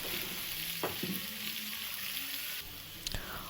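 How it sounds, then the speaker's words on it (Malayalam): Thinly sliced onions fry in a hot pan for a chicken curry, giving a steady close sizzle with a few stirring scrapes and clinks, and no talk. "ഇനി നമുക്കിതിലേക്ക് കനം കുറഞ്ഞ അരിഞ്ഞ സവാള ചേർത്ത് കൊടുക്കാം."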